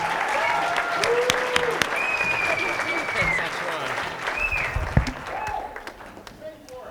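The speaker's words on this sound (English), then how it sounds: "Clap for Jeff." An audience claps for a speaker who has just been welcomed to the stage. The applause is a steady wash with whistles and cheers rising above it, moderately loud throughout.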